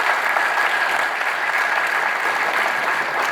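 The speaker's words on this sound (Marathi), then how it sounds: "धनंजय सरांचं परत एकदा सर्वांनी टाळ्या वाजवून स्वागत करावं" An audience at an RTO Inspector exam guidance session claps steadily to welcome a speaker, a dense, even burst of applause from many hands with no voices over it.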